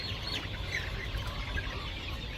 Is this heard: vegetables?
no